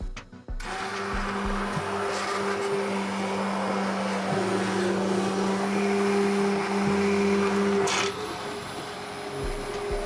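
A blender motor runs continuously blending warmed coconut milk, a steady high whir and hum, close and loud, its pitch shifting slightly partway through.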